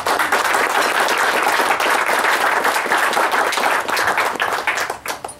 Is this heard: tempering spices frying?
no